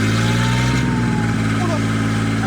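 A car engine holds a steady mid-pitched drone throughout, with its pitch dipping as gears change and a voice speaking briefly over it.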